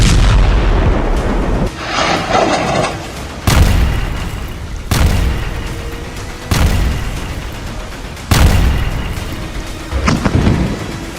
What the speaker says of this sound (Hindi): इजरायल के तूफानी हवाई हमलों में बमों के धमाके ऐसे इमारतों को उड़ा रहे हैं